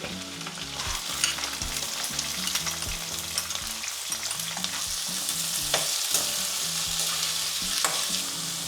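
Curry leaves and finely chopped onions fry in hot oil with a loud, dense crackling sizzle, accompanied by repeated stirring scrapes and clinks from a close pan, with no talking.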